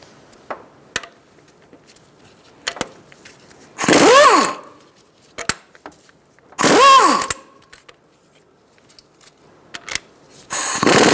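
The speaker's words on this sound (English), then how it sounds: "With a 17mm socket, we're going to undo these two nuts, this bolt, and also this nut." A 17mm socket on a power tool undoes engine mount nuts on a 2012-2017 Hyundai Accent 1.6L, with three loud whirring bursts of about half a second each, separated by quiet stretches of scattered metallic clicks and clinks.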